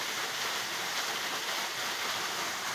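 Chhota Mahadev waterfall crashing steadily, a dense continuous rush of falling water that stays loud and even throughout with no pauses.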